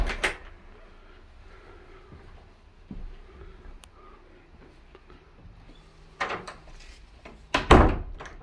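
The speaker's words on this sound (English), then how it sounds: "Shut the door behind me." Front door of a house being shut, with a few thuds and knocks near the start and a louder slam and rattle toward the end, amid quiet room tone.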